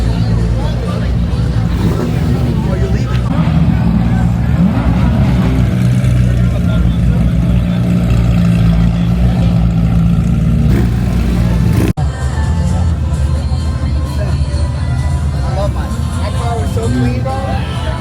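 A Ford Mustang GT500 at a gathering of exotic supercars makes a loud, continuous engine and exhaust rumble amid crowd chatter, with people talking nearby.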